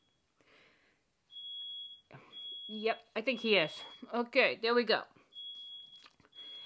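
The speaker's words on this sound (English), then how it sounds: "it sounds like there's our smoke alarm is going off" A thin, high electronic smoke alarm tone sounds continuously in the background, set off by cooking, partly covered by people talking close by.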